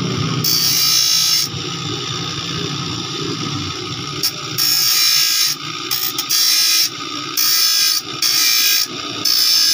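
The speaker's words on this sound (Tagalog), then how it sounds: "papakita ko po sa inyo guys kung paano po hasain ng lagari" Repeated rasping strokes of a file against a handsaw's metal teeth during sharpening, coming in bursts with short pauses between, close and fairly loud.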